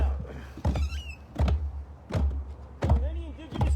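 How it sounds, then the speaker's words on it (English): Hand drum struck in a slow heartbeat pattern, soft deep thumps falling in close pairs and repeating several times, alone with no talking over them. "And we like to call this one the heartbeat sound."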